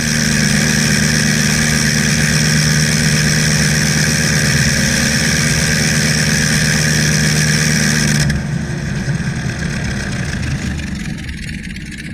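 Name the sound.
vintage single-cylinder aircraft engine starting and running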